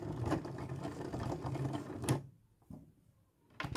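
A sewing machine back stitches at the centre back seam while a lap zipper goes in, whirring steadily for about two seconds before stopping, followed by a faint mechanical click.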